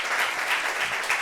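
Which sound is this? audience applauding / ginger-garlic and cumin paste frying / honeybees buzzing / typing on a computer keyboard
audience applauding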